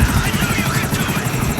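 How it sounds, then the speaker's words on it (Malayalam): A helicopter in the video game GTA 5 gives a loud, continuous rotor drone with rapid chopping pulses, close and steady throughout. "അയ്യോ, ദേ നിൽക്കുന്ന ഹെലികോപ്റ്റർ."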